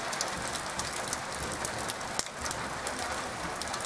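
Steady rain patters and hisses on a surface, a dense close wash of drops with no voices.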